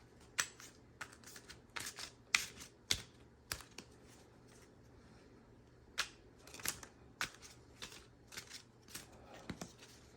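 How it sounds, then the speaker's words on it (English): Soft, scattered clicks and flicks of tarot cards being lightly mixed by hand, close and quiet, in an uneven rhythm with no talking. "Got some pre-shuffled cards here. I'm just going to do a light mix on."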